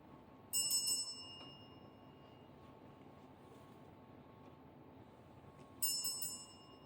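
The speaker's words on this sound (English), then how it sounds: "Let's call this a peace bell." A peace bell rung at the start of a guided meditation gives two separate bright strikes several seconds apart, each ringing out and slowly fading in a quiet room.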